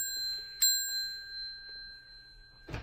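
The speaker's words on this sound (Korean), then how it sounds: "교장이 누른 종소리를 듣고" A single bright ding from a bell pressed by a school principal, ringing with a sustained metallic tone that slowly decays over a quiet room, ending with a soft bump.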